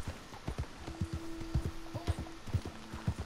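Horse hooves clip-clopping in a steady galloping rhythm while riding in Red Dead Redemption 2, close and clear, with a faint sustained tone running through the middle.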